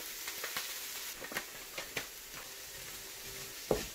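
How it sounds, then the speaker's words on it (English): Vegetables and chopped tomatoes frying in a pan, seasoned with Nando's seasoning, sizzle under a steady faint hiss while a spoon stirs them in a few soft scraping taps, with a sharper clink near the end. "Give that a quick stir."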